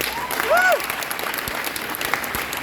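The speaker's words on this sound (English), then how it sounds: "give these guys a round of applause" A convention crowd applauds a band at a panel for a long stretch, with a steady wash of clapping and a brief whistle or cheer rising above it.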